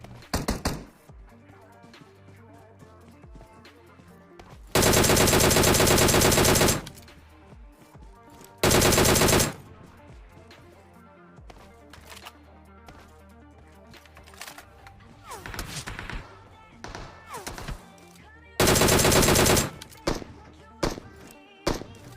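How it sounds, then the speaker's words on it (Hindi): SKS rifle fire in the PUBG Mobile battle royale game comes as a few loud, dense bursts of shots separated by quieter stretches of game ambience and small clicks. "तभी सामने वाले बर्न हाउस से एक बंदा एसकेएस चला रहा होता है"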